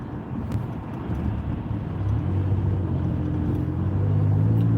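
A car cruises on a highway at about 40 in a 70 zone during a driving lesson, a steady low engine and road rumble heard from inside the cabin that grows slightly louder toward the end.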